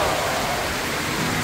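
Heavy, unrelenting rain pours down in a steady, dense hiss, loud and close, with no speech.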